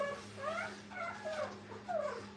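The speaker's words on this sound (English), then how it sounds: "So we see here how the puppies are feeding." Young puppies in a kennel whimpering and yipping in short, high wavering cries while they feed, several small voices overlapping at close range over a steady low hum.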